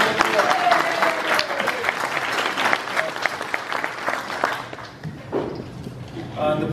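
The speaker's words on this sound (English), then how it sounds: "Let's give ourselves a big round of applause." Reunion crowd at the Dillard High School class of 1966 50th reunion applauding themselves, a dense burst of clapping with scattered cheers that thins out toward the end as a voice begins speaking.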